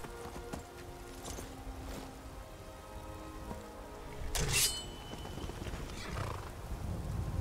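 Horses in the video game Skyrim make scattered hoof clops and a short whinny, with a steady rain-like patter underneath and no talking.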